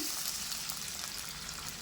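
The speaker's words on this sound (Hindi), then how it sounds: "मैं डाल दूँगी इसके अंदर पानी।" Water pours into a cooking pot for fish mandi, a brief, close, hissing gush that sounds steady and even throughout.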